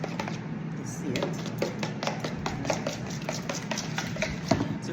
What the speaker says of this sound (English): I'm gonna use some eggs right now.